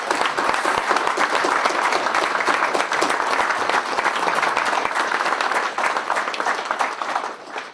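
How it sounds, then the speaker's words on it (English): An audience at an evening lecture event gives sustained applause, a steady wash of many hands clapping at full strength for several seconds and easing slightly toward the end. "So let's give them a round of applause."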